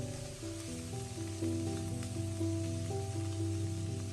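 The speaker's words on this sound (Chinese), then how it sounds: "把葱姜蒜炒出香味，把小米椒炒出辣味" Scallion, ginger, garlic and chili stir-fried in a wok over low heat give a soft, steady sizzle, with light stirring under steady tonal background music.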